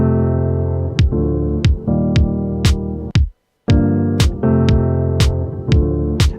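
Random drum samples triggered on a Roland SP-404 sampler, a steady beat of sharp hits over sustained tonal layers, loud and close, with a brief dropout midway before the pattern resumes; no talking.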